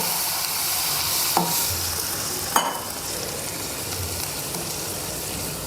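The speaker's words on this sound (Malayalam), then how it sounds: "ഈ സമയത്ത് നമുക്ക് ആവശ്യത്തിനുള്ള വെള്ളം ഒഴിച്ചു കൊടുക്കാം" In a pan of fried spice powders for mackerel curry, water sizzles and hisses steadily at a moderate level as it is stirred, with a couple of brief clinks.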